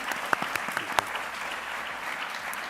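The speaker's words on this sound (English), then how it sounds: "Can we have a big round of applause?" An audience at a talk on climate storytelling gives a round of applause. Many hands clap together in an even, continuous patter, with a few sharper individual claps standing out near the start.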